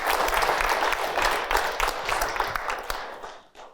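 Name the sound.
applause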